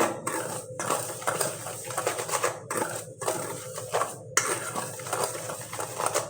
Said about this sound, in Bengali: আমি বেসন সুজি বেগিন পাউডার আর নুন দিয়ে শুকনো উপকরণগুলো খুব ভালো করে একবার মিশিয়ে নেব